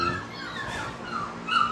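Faint high whimpers and yips from puppies in the background, set against a low steady hum.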